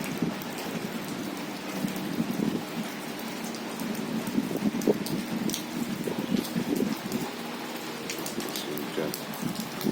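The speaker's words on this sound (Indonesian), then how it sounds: "Terus deras sekali anginnya mas bro." Heavy rain pours steadily during a windy afternoon storm near a grapevine, a dense, even wash of drops with scattered louder splashes close by.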